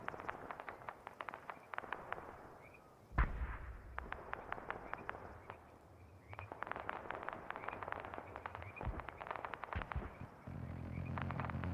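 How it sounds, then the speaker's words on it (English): Distant gunfire in a video game, a gun run heard from afar as bursts of rapid cracks and booming thuds that come in rolling waves over a steady background of game noise, with no talking. "We're gonna hear the gun run from a distance."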